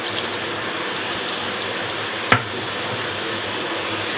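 Water poured into a sizzling pan of chicken karahi gives a sharp, brief hiss-burst partway through, set against a steady bed of frying sizzle that fills the whole stretch.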